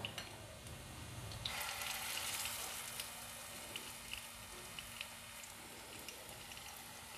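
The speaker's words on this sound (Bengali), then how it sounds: "এক এক করে আমি সব কচুগুলো ভেজে নেব" Pieces of taro (kochu) frying in oil over a low flame give a soft, steady sizzle with faint crackles, quiet and continuous throughout.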